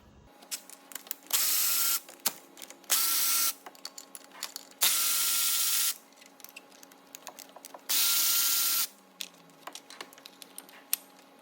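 Bolts being undone on the engine side mount of a Peugeot 308 1.6 HDI DV6C, with four loud, sustained mechanical bursts of about a second each, separated by scattered ratchet clicks and small metallic taps, close up.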